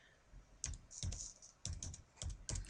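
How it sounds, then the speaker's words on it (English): Typing on a computer keyboard to enter a department name into software: close, crisp bursts of key clicks in quick clusters separated by short pauses, with no talking. "I'll type in physiotherapy"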